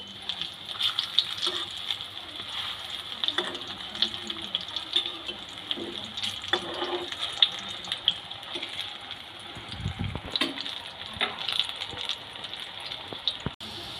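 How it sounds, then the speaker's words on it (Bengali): Raw banana koftas fry in hot oil and are turned over, giving a continuous bright sizzle and bubbling close by, with occasional soft knocks as they are shifted. "কোপ্তাগুলোকে উল্টে পাল্টে একটু ভেজে নেবো"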